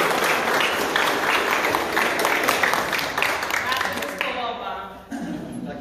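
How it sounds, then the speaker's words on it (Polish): Applause from an audience at a Polish gallery opening of rare PRL-era maritime posters, dense steady clapping for over four seconds that then thins out and fades into talk. "Gromkie brawa dla działu promocji."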